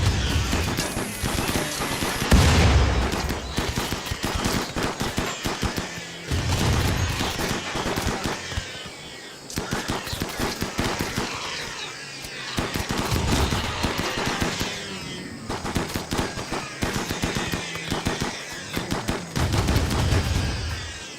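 Video game gunfire from RimWorld as raiders shoot at turrets, dense bursts of rapid machine-gun and rifle shots crackling almost without pause, loud and continuous with a few heavier thumps.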